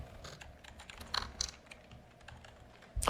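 Soft, scattered keystrokes on a laptop keyboard tap out a short phrase, faint and close, with a slightly sharper click at the end and no speech.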